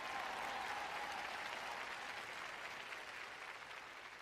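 Congregation applause at a French-language church sermon, a steady wash of many hands clapping that fades slightly toward the end, with no talking over it.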